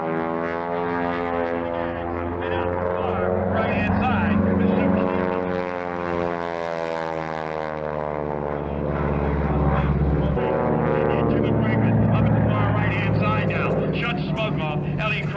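Propeller aerobatic airplanes roar overhead at the 1990 Reno air races, a loud sustained engine drone with shifting pitch that swells and fades as aircraft pass, with steady crowd and air noise beneath.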